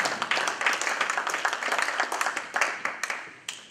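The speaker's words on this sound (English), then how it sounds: "Let's give her another big round of applause, ladies and gentlemen." Audience applause at an IT conference for a presenter, dense clapping in a room with sharp individual claps standing out, tapering unevenly toward the end.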